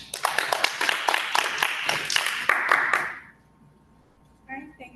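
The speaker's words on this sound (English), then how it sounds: "Let's give a round of applause to Ms." Audience at a real estate training workshop clapping for a speaker, a brisk burst of applause of about three seconds that cuts off abruptly, followed by a brief voice.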